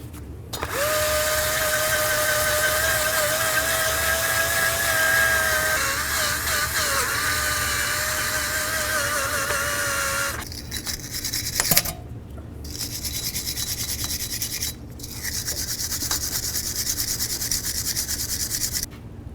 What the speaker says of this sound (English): I sanded down the entire area of the mating surface on the hub.